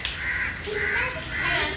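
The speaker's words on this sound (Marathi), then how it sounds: "आता कावळे काव काव करत येणार" Crows caw a few times in harsh, repeated calls against a noisy outdoor background.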